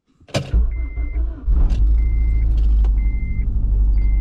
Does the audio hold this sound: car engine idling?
yes